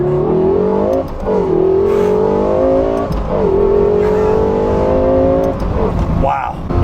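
Lexus LFA sports car accelerating hard, its engine note climbing loud and close in repeated rising pulls with brief dips between gear changes.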